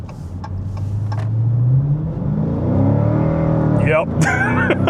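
A Dodge Challenger in sport mode revs up, its engine note rising steadily from a low rumble into a stronger pull, loud and close, with brief talk in the cabin near the end.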